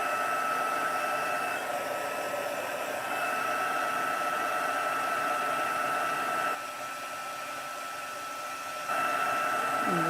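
A heat embossing tool blows hot air at high power over a card held with a bulldog clip, making a steady, fairly loud whooshing hiss whose tone shifts slightly partway through as the tool moves.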